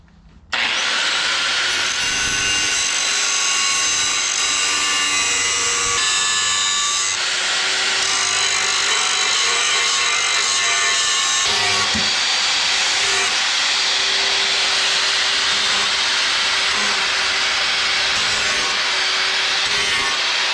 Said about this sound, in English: shave these edges off, round the corners a little bit.